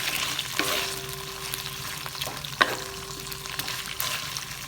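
Pork noodle soup broth is stirred and reheated in a pot, with a steady sizzling bubble and a few clanks of the utensil against the pot, close up and without speech.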